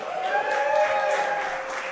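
Audience applause at a community event at a town center, a dense wash of clapping held steady for a couple of seconds, with a faint tonal hum or voice underneath.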